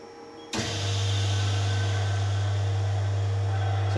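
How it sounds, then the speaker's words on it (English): A vacuum pump for a plasma chamber switches on with a sudden onset, then settles into a loud, steady low drone with broad hiss that runs on without a break. "first I will turn on the pump."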